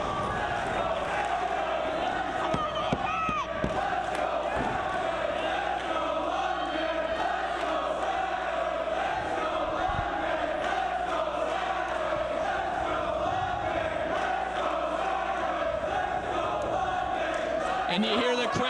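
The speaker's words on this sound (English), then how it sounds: "And you hear the crowd split 50-50 behind both men." A Ring of Honor wrestling crowd cheers and chants steadily throughout a match involving AJ Styles, a loud continuous roar from a packed arena with occasional sharp thuds from the ring, and a commentator's voice talking over it.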